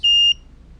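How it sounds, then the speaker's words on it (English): A smart magnetometer door sensor intrusion alarm sounding, a single loud, pure high-pitched electronic beep lasting about a quarter second, then near silence. "When the door opens, the magnet moves away from the sensor and the alarm sounds."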